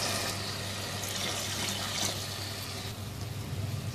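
Water from a 1.5-cup measure pours steadily into a cooking pot of mixed green chillies and julienned ginger for a Muharram niyaz rice dish, a continuous splashing stream heard alone for about three seconds before easing off.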